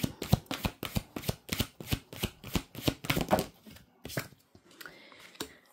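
Tarot cards being shuffled for a reading, a quick series of crisp riffling bursts in a steady rhythm, then a few slower, softer card slaps as the deck settles.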